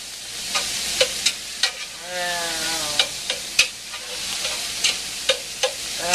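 Ground meat fries in a hot pan while a whisk breaks it up, producing a steady sizzle punctuated by repeated clinking, scraping strokes in an uneven rhythm.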